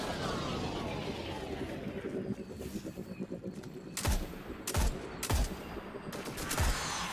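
Rapid gunfire from the Destiny 2 video game: dense sustained automatic shots with a wash of effects, then several sharp, loud single blasts spaced about half a second apart, with no talking.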